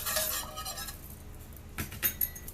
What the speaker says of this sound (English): just whisk it in, whisk it all together